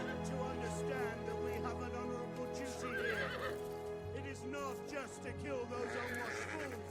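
Horses of the Riders of Rohan cavalry in a Total War battle neigh and whinny repeatedly over a steady rumble of hooves and battle ambience, with overlapping calls rising and falling throughout.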